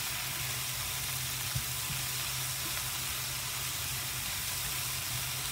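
Vegetables coated in cumin and other spices fry over medium heat in a couple of teaspoons of oil in a non-stick pan for a vegan spaghetti sauce, giving an even, close, unbroken sizzle throughout.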